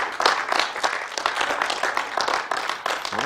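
An audience at a talk about Holocaust rescuers bursts into sustained clapping and applause, dense and steady throughout, with a brief chirp near the end.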